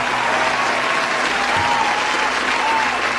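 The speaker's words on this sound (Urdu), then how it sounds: "تالیوں سے استقبال کیجیے" Mushaira audience applauding steadily in welcome of poet Dr. Rahat Indori, a dense, even wash of clapping from a large crowd throughout.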